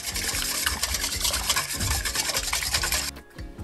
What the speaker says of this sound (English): break up those eggs with the whisk